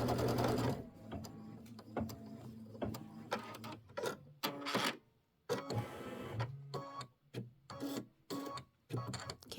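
Embroidery sewing machine stitching a quilt block for a Christmas wall hanging, with rapid mechanical needle runs broken by short pauses and stops, close and moderately loud, no talking.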